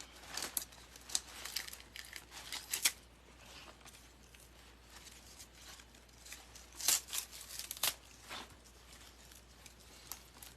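The floral pieces of a fall wreath kit are pulled apart, giving close, faint crinkling and rustling with scattered sharp snaps and tugs at an uneven pace.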